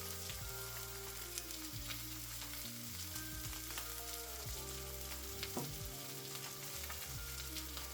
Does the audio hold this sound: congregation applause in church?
no